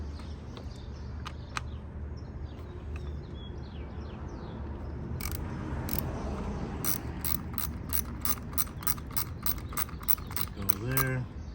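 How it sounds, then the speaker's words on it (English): A 10mm socket ratchet undoes the coil pack bolts on a 3.6 V6 Dodge Charger, giving a run of sharp, evenly spaced ratcheting clicks that grows busier in the second half, close and fairly loud. "we're going to go ahead and use our 10mm socket to get the coil packs undone"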